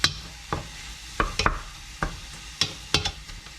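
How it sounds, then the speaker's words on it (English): Browning ground meat being stirred and broken up in a pan for a pasta meat sauce. A utensil scrapes and knocks in separate strokes about every half second over a low sizzle, close by. "we've broken up the chopped meat as best we can"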